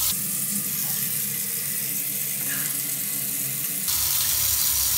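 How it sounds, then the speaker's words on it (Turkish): Water runs steadily from a shower tap in a shower enclosure during a leak test, a continuous hissing spray that changes tone slightly near the end as the flow shifts. "Şimdi su açık test etme zamanı."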